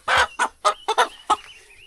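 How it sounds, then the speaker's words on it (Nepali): A rooster in a Nepali village in Bhojpur calls close by with a quick series of five or six loud, harsh squawking bursts, then falls quiet. "कुखुराको भाले"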